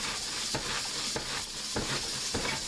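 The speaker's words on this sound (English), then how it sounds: "But you stir it around so you can taste it." Salted shredded cabbage for sauerkraut is stirred by hand in a 10-gallon crock, producing a dense wet rustle with rhythmic crunching strokes about every half second.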